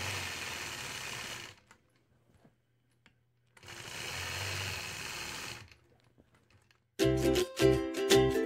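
Sewing machine quilting a melon-shaped design on a fabric block, two steady close bursts of motor whir and stitching separated by near silence, then a louder clattering mechanical passage at the end, no talk.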